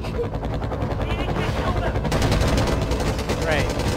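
Sustained machine-gun fire from a landed helicopter's side gun in the strategy game Wargame: AirLand Battle, rapid rattling bursts over a rotor drone and battlefield noise, with someone talking partway through.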